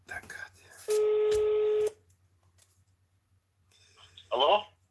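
A telephone dials a number: a steady one-second tone, then a quick burst of touch-tone beeps later on, with a brief bit of speech near the start.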